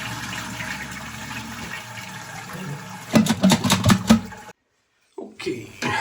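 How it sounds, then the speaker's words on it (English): A wall-hidden concealed-cistern toilet flushes with a gurgling rush of water and several sharp clunks, then cuts out abruptly before the water noise returns; no speech heard. "Flush this."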